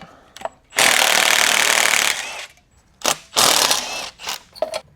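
A ratchet working 11 mm rusted exhaust manifold bolts on a BMW M52 engine during a teardown, loud close bursts of rapid clicking in two main runs separated by brief pauses.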